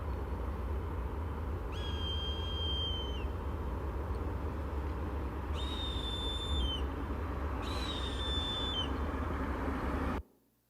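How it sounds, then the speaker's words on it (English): Three long, thin, descending screams of a Swainson's hawk, well spaced and fairly loud, over a steady low rumble of background noise. "if you want to know what a Swainson's hawk sounds like"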